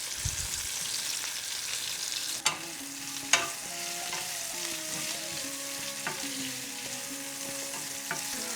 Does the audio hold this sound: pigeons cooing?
no